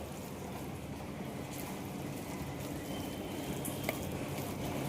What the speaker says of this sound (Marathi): आता आपण इथे हे छान परतून घेऊ।